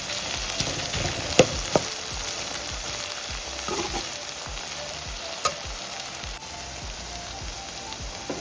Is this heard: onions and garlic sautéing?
yes